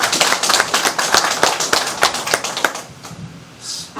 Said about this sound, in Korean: 박수 한번 칩니다.